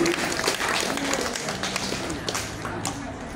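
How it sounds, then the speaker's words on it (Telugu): An audience at a gathering claps loudly in a dense, steady wash of applause with a faint voice underneath. "గట్టి చప్పట్లు"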